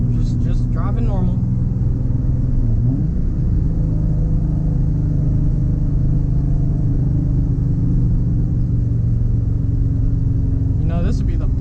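A Nissan 350Z drives along scenic winding back roads with a loud, steady engine drone and road rumble throughout, the engine note rising slightly near the start and end.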